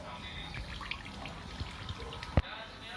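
A thin stream of water from a tap trickles steadily in the background of a static electricity demonstration with a plastic pipe, with a soft knock near the end and speech faintly underneath.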